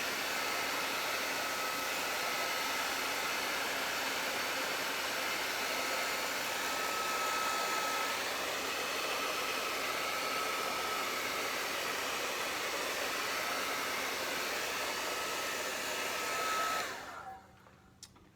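A hair dryer blows steadily on fresh paint, a loud continuous broadband whoosh lasting about seventeen seconds before it cuts off abruptly near the end, close to the microphone with no talk.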